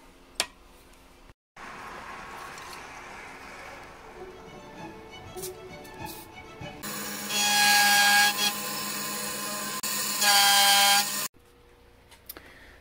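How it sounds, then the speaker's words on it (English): A power sander smooths the edges of freshly cut wooden triangles for a telescope mirror cell, running loud and steady in two bursts after quieter workshop handling and rubbing noises. "Clean the edge up a bit on the sander."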